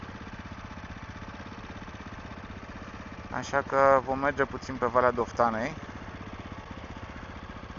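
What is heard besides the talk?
SWM Superdual T 600 single-cylinder motorcycle engine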